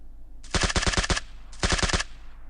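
Automatic rifle fire in the mobile game PUBG Mobile: two loud, close bursts of rapid shots, the first about eight rounds and the second about six, separated by a short pause.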